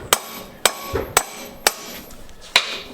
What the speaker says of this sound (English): we take a good size hammer and just tap it in lightly